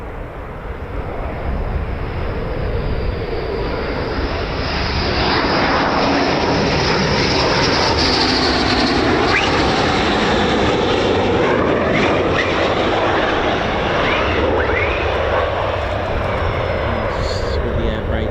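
F-15 fighter jet engine running at RAF Lakenheath during hot pit refuelling, a loud, continuous roar and whine that swells and stays strong throughout, heard close by.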